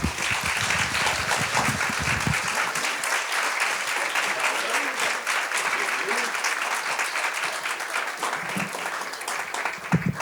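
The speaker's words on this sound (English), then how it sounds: "You just stopped clapping for Riley. Let's clap for him again." A live audience applauds for Riley with dense, sustained clapping that fills the whole stretch, loud and steady with a few louder claps near the end.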